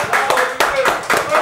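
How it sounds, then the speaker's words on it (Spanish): A short round of clapping from several hands, with irregular claps layered over a voice speaking at the same time. "Démosle un aplauso, de verdad"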